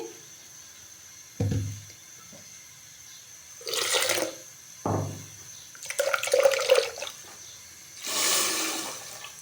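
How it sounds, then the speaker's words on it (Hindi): Water splashes and pours into a pot of blended dates in several separate bursts, with quiet gaps between, close by and without any talking. "आधा गिलास के जितना हमने इसमें पानी ऐड किया है"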